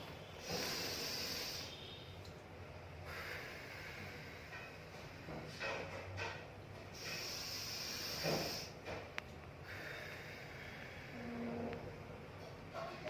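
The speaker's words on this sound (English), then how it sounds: "You have to inhale through your nose and exhale through your mouth." Slow, deliberate breathing in a COVID recovery exercise, air drawn in through the nose and pushed out through the mouth in long hissing waves, close and fairly loud, repeating several times with brief pauses between breaths.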